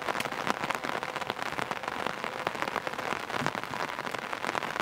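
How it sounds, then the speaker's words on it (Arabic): Rain falls on tents in a flooded camp in Afrin, a steady, dense patter of drops striking fabric at close range, continuous and even with no voices over it. "شلون هسه جاي المطر"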